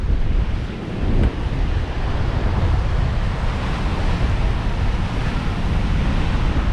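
Stormy sea surf breaking on Workington beach during Storm Lilian, a loud continuous roar of waves mixed with heavy wind buffeting the microphone.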